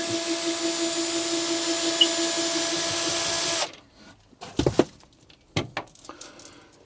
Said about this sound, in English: I'm just going to unbolt that.